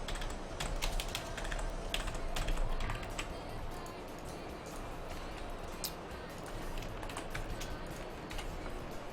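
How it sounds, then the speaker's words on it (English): Computer keyboard typed on in quick, uneven bursts of clicky keystrokes, fairly close, continuing steadily with a short pause partway through. "Let me retype this."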